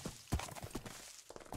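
Horse hooves clip-clop in a Minecraft Steampunk LPS mod, a few quick uneven game footfalls at close range, with no talk over them.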